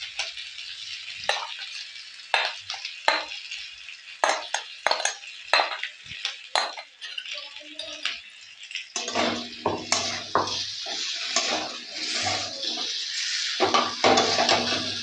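Gravy poured into a pan of cauliflower roast being cooked in oil, with a string of close metal scrapes and clinks from a stirring spoon, then a denser, louder bubbling sizzle as the liquid hits the hot pan.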